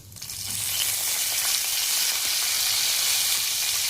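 Curry leaves dropped into hot oil with cumin seeds burst into a loud, dense sizzle that rises within half a second and holds steady and close, with no talk.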